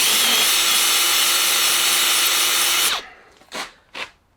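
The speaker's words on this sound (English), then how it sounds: "Get my hand drill, 40 grit flap wheel, and basically put that in the hole like that" A hand drill fitted with a 40 grit flap wheel grinds loudly inside a car hub hole for about three seconds, then stops, followed by two short bursts of grinding.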